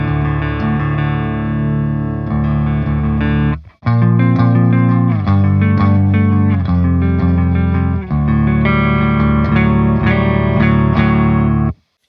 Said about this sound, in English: Yeah, that's a very nice clean tone for sure.